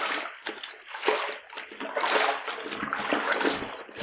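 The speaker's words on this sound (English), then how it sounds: "if there is a stain anywhere, all you have to do is just scrub it like this" Hand scrubbing of a white towel in a basin of water, with repeated wet splashing and sloshing strokes, moderately loud and close, with some faint background voice.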